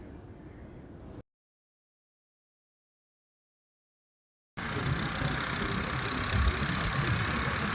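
A motorbike is ridden along a tree-lined village road in Goa, its engine rumbling and mixed with wind noise. A short burst of sound gives way to a silent gap, then a longer, steadier stretch of riding.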